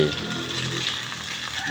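Steady, close hiss and crackle of an egg frying in hot oil in an old-style pan, continuous and fairly loud with no pauses.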